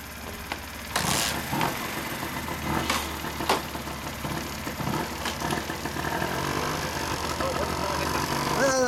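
A Honda Ape50 HC07 mini motorcycle engine runs after a kick start, a low steady idle with some knocking and clatter, while people talk over it nearby.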